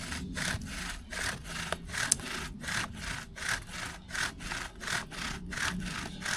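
A wooden bow drill spindle grinds back and forth on an angled hearth board under a tight rope, producing about a dozen rhythmic, raspy sawing strokes at a steady pace, close and fairly loud.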